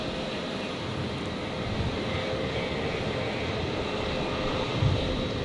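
A Jetstar Airbus A320 arriving from Cairns on runway 01 left at Brisbane gives off a steady, loud jet engine roar that holds fairly even throughout, with no voices.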